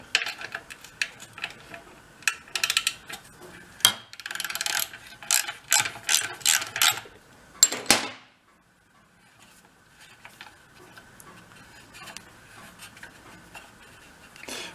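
Close socket ratchet working a small spark plug out of a junked snow cycle, bursts of rapid clicking that stop and restart, loud and crisp, then fainter scattered ticks and handling near the end.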